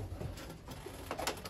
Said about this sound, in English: we still have to get rid of all of these pigeons